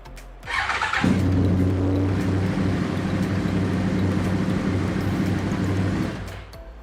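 A Yamaha R1 sport motorcycle starts after a starter motor and throttle body service. A short cranking burst catches into a loud, steady idle rumble that holds close and even for several seconds before dropping off.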